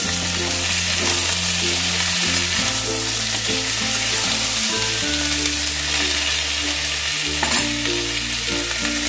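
Vegetable stalks for shukto fry in a hot pan with a loud, continuous sizzle that stays steady throughout, alone without any talking.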